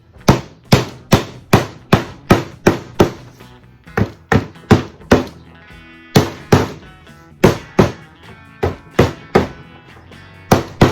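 Molding is hammered onto a van's back door panel in a loud, rhythmic series of about twenty sharp close blows with short pauses between bursts, and no talking.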